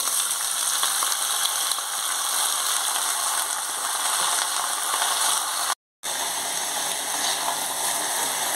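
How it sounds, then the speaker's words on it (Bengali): Vegetables tipped into hot oil seasoned with panch phoron fry with a steady, bright crackling sizzle. It carries on without a break apart from one brief silent cut, and no one speaks. "এবার ঢেলে দিচ্ছি সব সবজিগুলো।"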